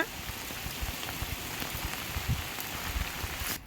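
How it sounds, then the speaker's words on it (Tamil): Steady rain pours over a garlic field, a dense, even patter of drops close by that continues without a break and with no voices. "நல்ல மழை பெய்யுது"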